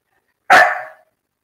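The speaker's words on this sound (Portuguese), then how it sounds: "minha cachorra está aqui perturbando" A female dog gives one sharp, loud bark indoors, close by, starting suddenly and fading out within about half a second, with silence around it.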